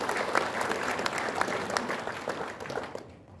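An audience at a formal gathering applauds Chairman Kim Jeong-sik, a moderate crowd clapping that runs steadily and then fades out near the end.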